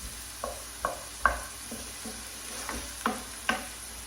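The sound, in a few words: red onions frying in pan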